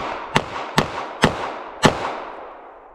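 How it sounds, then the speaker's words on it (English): Four sharp, loud revolver shots from a Taurus 605 fired in fairly quick succession outdoors, each crack trailing off into a short echo. "So I'll fire as fast as I think I can."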